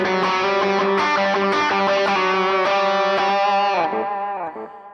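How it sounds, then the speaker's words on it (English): Electric guitar chords played through an Aspen One distortion pedal at a low gain setting, loud and close with a warm driven crunch, several strummed chords ringing out before decaying at the end. "Great distortion sound, even at this low gain setting."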